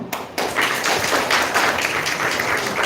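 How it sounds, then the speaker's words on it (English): Audience applause at an International Women's Day felicitation of women achievers, a dense, steady burst of many hands clapping that starts abruptly and carries on evenly throughout. "If you know a woman who inspires you in your life, clap for her"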